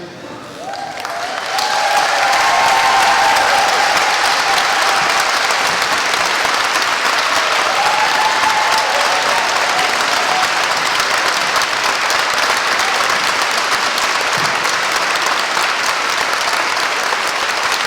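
Large audience at a school's 100th anniversary celebration breaks into loud, sustained applause for a long-serving staff member, swelling within two seconds and holding steady, dense and continuous to the end.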